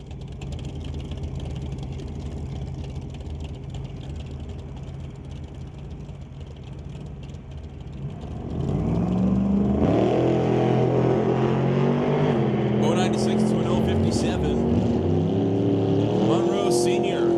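Drag race at the JBS Equipment ET Series between a 1931 Ford Model A and a 1966 Ford Mustang, with a steady engine drone that swells into loud, rising full-throttle roaring as the cars launch and accelerate.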